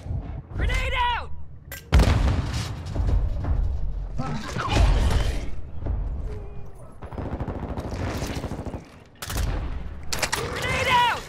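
Call of Duty gunfire and heavy blasts from a grenade explosion boom in repeated bursts, loud and close, with shouted voices breaking through between the shots.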